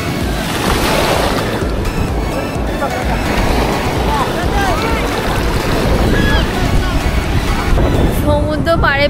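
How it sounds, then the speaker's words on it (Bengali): Sea waves roll and wash onto Puri beach in a steady, loud surf roar with gusty wind across the microphone, and people's voices are heard through it. "সমুদ্রে ঢেউ আসে যায়।"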